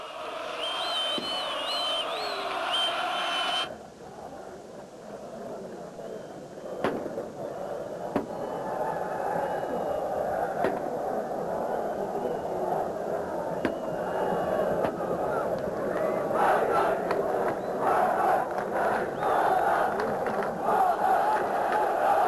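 Football fans in a stadium crowd roar and chant before the second half kicks off, a dense sustained mass of voices heard from a distance, with a commentator's speech and occasional bangs over it.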